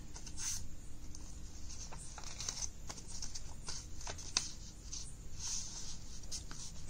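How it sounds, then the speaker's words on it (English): A sheet of paper is creased and folded down the middle for a tangram. Close, light rustles and scrapes come in short bursts at a steady level, and no one speaks. "this also you fold in the middle"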